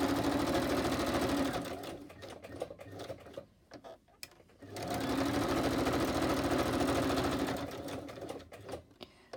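A sewing machine with brown thread stitches around a paper tag, running in two long rapid bursts separated by a stop-and-start pause with scattered clicks and handling sounds.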